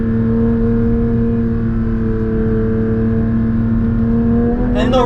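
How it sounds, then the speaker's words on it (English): A Porsche 992 GT3 engine drones steadily at high revs with a strong harmonic tone, then blips sharply on a downshift near the end, the rasp rising as the revs climb; heard loud and close with no talking. "And those downshifts, man, every time, they're just sensational."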